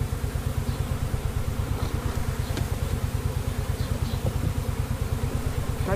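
Honey bees being shaken down into a container for a CO2 varroa test give off a loud, dense, continuous buzzing drone that holds steady throughout, with no voices.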